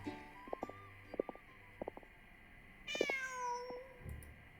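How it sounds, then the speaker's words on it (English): A cat in Genshin Impact gives several short meows, spaced in small clusters, then one longer drawn-out mew over quiet ambient hum. "Just a cat."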